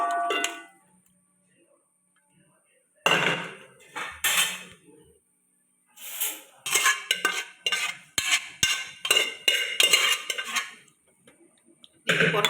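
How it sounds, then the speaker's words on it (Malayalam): Pork curry being moved into a frying pan: bursts of metal utensils clattering and scraping against pans, separated by quiet gaps, fairly close and loud. "ചട്ടി വെച്ച് ഈ പന്നിക്കറി ഇങ്ങോട്ട് മാറ്റാൻ പോവാണ്"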